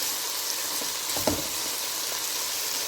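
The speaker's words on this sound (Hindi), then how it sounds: "अब इसमें मैं कॉर्न डालूंगी, मैं मिक्स करूंगी।" Sweet corn stirred into tender cooked chicken in a hot pan, a steady soft sizzle with one brief louder scrape of mixing near the middle, no voices.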